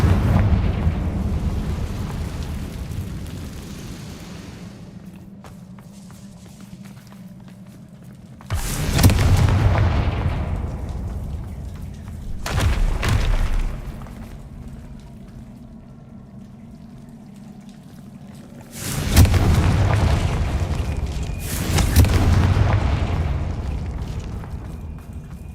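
Confringo blasting-curse explosions in Hogwarts Legacy, four heavy booming blasts at irregular intervals, each a sudden loud broadband burst with a rumbling tail, over a low steady game ambience rumble.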